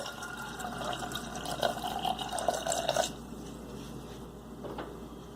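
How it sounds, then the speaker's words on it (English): Water pours steadily into a pressure cooker holding dal for about three seconds, then stops, leaving faint background hum and a soft clink. "Then add water."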